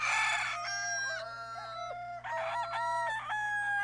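A rooster crows twice in succession, loud and close, each call a long drawn-out cock-a-doodle-doo, over a faint steady background hum.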